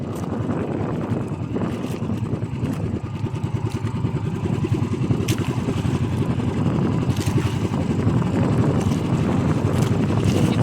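Strong wind and rough waves at sea during a squall, recorded aboard a boat: a steady, loud roar of gusting wind and water buffeting the microphone, with occasional sharper slaps, continuous throughout.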